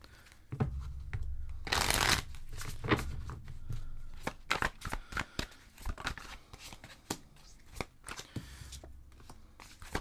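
Tarot cards being shuffled make bursts of riffling and flicking, close and crisp, with a long dense riffle near two seconds followed by irregular snaps and slaps.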